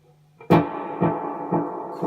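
An electric guitar played through a Strymon delay pedal set with long trails, heavy feedback and built-in reverb: one struck chord followed by a decaying wash of echoes repeating at a steady rhythm, heard alone.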